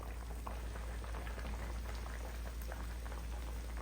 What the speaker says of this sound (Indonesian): Setelah itu kita masukkan lelenya, kita masak ini sekitar 5 menit aja.